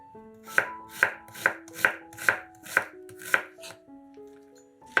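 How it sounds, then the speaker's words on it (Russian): An onion is diced with a knife on a cutting board: about eight crisp, evenly spaced chops, close and clear, over quiet background music. "1 луковицу нарезаем кубиками."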